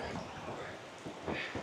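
Monsoonal rain in Innisfail, Australia: a steady, dense hiss of rain falls throughout, with brief gusty swells, and no clear speech.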